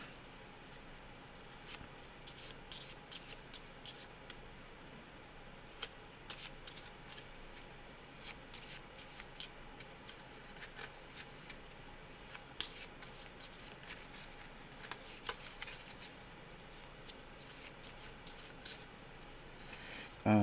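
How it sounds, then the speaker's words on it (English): Playing cards for a solo dungeon-crawl card game are shuffled repeatedly, giving quiet, rapid riffling and soft rubbing that runs on steadily for about twenty seconds with faint talk at times. "let's go ahead and shuffle and draw."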